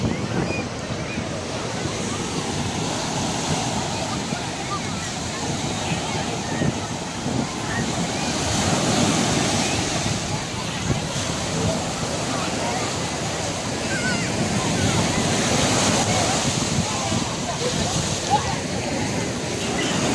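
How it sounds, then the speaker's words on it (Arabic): Sea waves break steadily on a public beach in Alexandria, Egypt, near the Mohamed Naguib area. The surf is loud and continuous, with gusts of wind buffeting the microphone. "يعني بصوا احنا البحر اهو، والشماسي اهي"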